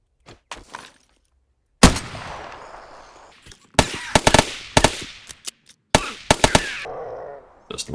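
Gunshots aimed at a demolisher zombie in 7 Days to Die, heard as a handful of sharp, loud cracks in clusters with echoing tails and short quiet gaps between them.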